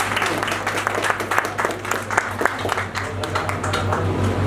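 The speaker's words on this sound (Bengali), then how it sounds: "আরেকবার হাততালি হোক।" An audience at a Rabindra Jayanti celebration in a club hall claps for a singer, a steady patter of many hands over a low electrical hum.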